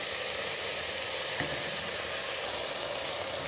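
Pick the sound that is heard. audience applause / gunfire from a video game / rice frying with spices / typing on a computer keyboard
rice frying with spices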